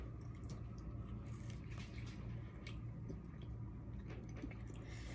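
Close, wet chewing and soft squishing of a bite of Trader Joe's frozen pizza, steady and continuous with no talking.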